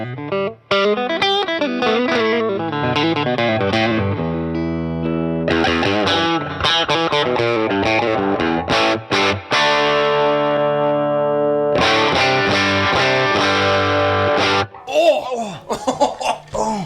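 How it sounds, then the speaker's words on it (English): Electric guitar distorted only by an overdriven amplifier, with no pedals, playing loud chords and riffs with sharp stops and pauses, near and dominant, and a short bit of laughter near the end. "we only get distortion from the amplifier by going the old-fashioned way"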